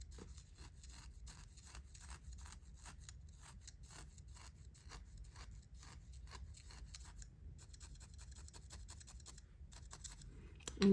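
Small scissors trim tiny flyaway fibers from a needle-felted wool penguin, giving a rapid series of faint, close snips. A soft rubbing hiss runs underneath and a brief louder thump comes at the very end.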